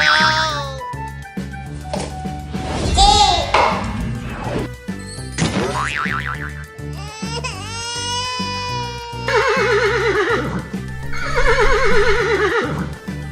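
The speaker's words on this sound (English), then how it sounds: "Horse." A horse neighs loudly several times in quick succession over a bouncy children's music backing, with whinnies repeating through the whole stretch.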